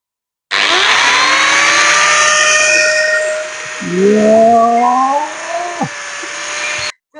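An angle grinder cutting steel rebar during home construction work gives a loud, steady high whine for several seconds, pitch bending lower as the disc bites the bar, with a brief voice heard partway through.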